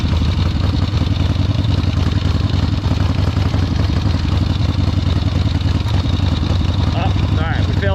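A 1972 Harley-Davidson XLCH Sportster engine rumbles loud and close as the bike creeps along slowly in a slow race test, a steady throbbing clatter that runs throughout.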